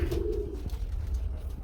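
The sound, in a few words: pigeons cooing at a pigeon farm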